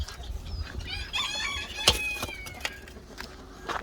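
Farmyard chickens cluck and murmur near and far, with a few sharp calls and a faint crow among them, over low background noise.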